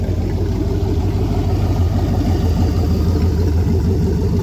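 The new engine in a Land'N Sea boat runs loud and close, a steady rumbling drone that holds high revs throughout with no talking.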